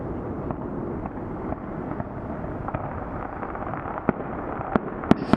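Distant fireworks over Sydney crackle and thud over a constant low rumble, with scattered faint pops and a few sharper, louder bangs near the end.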